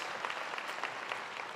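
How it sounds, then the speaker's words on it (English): Audience applause at a service program event, a brief steady patter of clapping hands, moderately loud and alone. "give them a round of applause, please"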